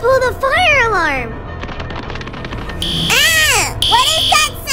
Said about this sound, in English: I'll pull the fire alarm!